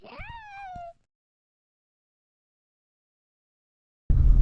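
A cat gives a single rising-then-falling meow close by, followed by silence and then a burst of loud noise, during a family river camping trip in the mountains.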